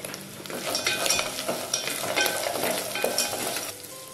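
Cashew nuts fry in a pan for vegetable pulao with a dense, continuous sizzle and crackle, broken by light stirring sounds.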